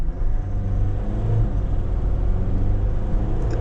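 A 2025 GWM Tank 300 with a 2.4 diesel engine accelerates at full throttle downhill, a steady, loud low engine drone and rumble heard from inside the cabin with no speech.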